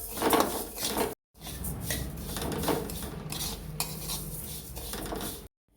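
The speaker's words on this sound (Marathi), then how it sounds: "थोडंसं तेल टाकून घ्यायचं मिरचीचं बी भाजून घ्यायचं" Chili seeds roast in a little oil in a pan for a homemade onion, garlic, chili and coconut masala paste, with steady clattering and scraping of a spoon stirring against the metal and a light sizzle underneath, broken by two brief silences.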